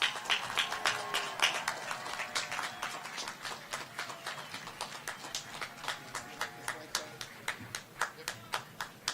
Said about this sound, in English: Let's give a warm round of applause to all of our new doctors.